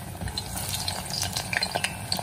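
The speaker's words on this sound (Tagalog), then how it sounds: "ngayon, ipiprito po natin ang talong" Eggplant frying in a pan gives a quiet, steady sizzle with scattered crackles and small pops, alone without speech.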